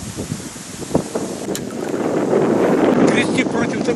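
Wind sweeps across an autumn lake around a small rowing boat, a rushing broadband hiss that grows louder and steadier after the first couple of seconds, with some brief close handling noises.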